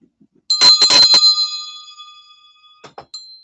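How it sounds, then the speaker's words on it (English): A bright metallic bell rings in a quick cluster of four strikes, then two softer dings follow, ringing out clearly with no voices. "Wait, I got to ring the bell."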